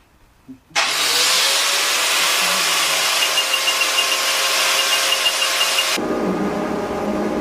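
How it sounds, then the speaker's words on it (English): Steady, loud hiss and crackle of welding on the second side of a vehicle frame while filling bolt holes, running unbroken for about five seconds before it cuts off abruptly, with no voices. "We're going to weld the other side."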